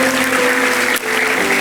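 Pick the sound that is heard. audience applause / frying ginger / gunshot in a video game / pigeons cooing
audience applause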